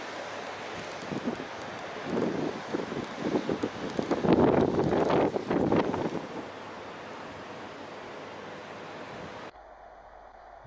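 Strong wind gusts on an Irish riverbank during autumn salmon fishing, a broad rushing roar that swells to a loud peak midway, then eases before cutting out.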